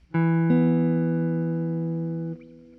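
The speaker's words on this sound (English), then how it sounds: "So without the bass notes, this is what the 2-5-1 sounds like." A ii-V-I jazz chord progression without bass notes: two sustained, rich chords with a clean electric tone, the second entering about half a second in and ringing together before stopping abruptly; no low bass underneath.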